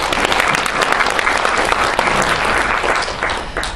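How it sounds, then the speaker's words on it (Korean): An audience applauds at a founding-anniversary seminar on Northeast Asia and the North Korean nuclear issue, dense steady clapping filling the room close and loud throughout, with no voices over it. "큰 박수 맞아주시면 감사하겠습니다."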